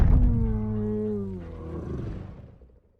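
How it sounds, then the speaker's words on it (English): A deep monster roar from Kong: Skull Island, one long bellow that drops in pitch and slowly fades to silence over about three seconds, loud and alone. "we cut to black as we hear Legendary's iconic roar"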